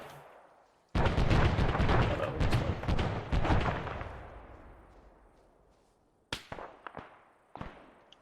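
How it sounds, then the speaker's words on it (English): Gunshots in ARMA 3: a heavy close shot with a long rolling echo that fades over several seconds, then a few sharper scattered cracks, loud and reverberant. "Shots northeast."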